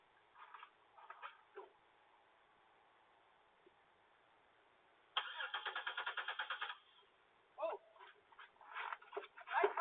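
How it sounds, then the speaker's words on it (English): A car's ignition is turned with the key just before a fire breaks out, giving a burst of rapid rhythmic starter cranking lasting about two seconds, set among other scattered faint clunks and rattles in a muffled, thin-sounding recording. "as soon as I turn the key in the ignition"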